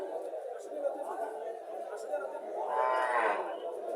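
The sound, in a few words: Friesian cow and calf at a cattle market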